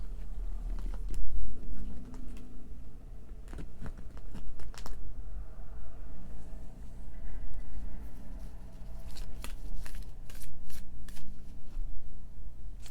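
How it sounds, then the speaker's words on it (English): Tarot cards shuffled by hand give rapid crisp riffling and slapping bursts in irregular clusters, close and clear, with quieter pauses between the shuffles. "I'm just shuffling and chatting."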